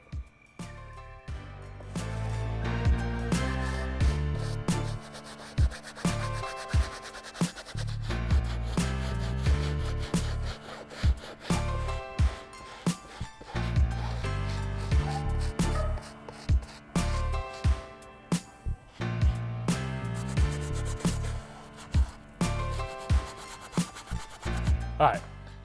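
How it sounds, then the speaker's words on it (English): An all-purpose brush scrubs stains on white canvas Vans shoes in quick, repeated back-and-forth strokes, close and rhythmic, with short pauses between bursts. "I'm gonna touch up some of these stubborn stains that are in this material, and I'll also hit the midsole"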